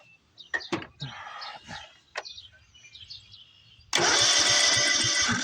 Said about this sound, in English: Engine spins.